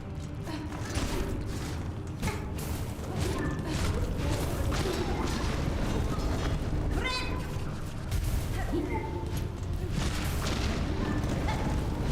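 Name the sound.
explosion in a video game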